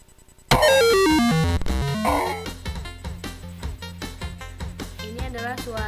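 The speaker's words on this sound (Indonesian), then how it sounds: "Ini adalah suara ketika kita membuka game tadi" A video game sound effect plays as the game Unko opens: a bright, loud burst of rapidly descending and rising synthetic tones, then a busy rhythmic electronic jingle with repeated percussive hits continuing alone.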